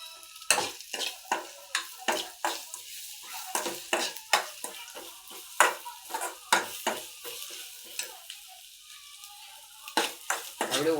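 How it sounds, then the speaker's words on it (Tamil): A utensil stirs Maggi masala with water in a pan, scraping and knocking in a steady rhythm of close, distinct strokes over a soft sizzle, with no talking. "தண்ணி ஊற்றி மேகி மசாலா போட போகிறோம்"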